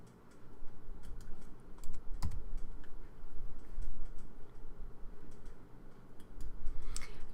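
Close, brisk typing on a computer keyboard, a steady run of light key clicks with a few louder taps, continuing throughout with no talking.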